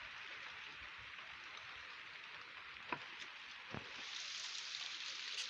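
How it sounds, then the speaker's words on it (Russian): Steady rain falling outdoors near beehives, a faint even wash of hiss with a couple of soft drip taps. "Дождь пошел не вовремя"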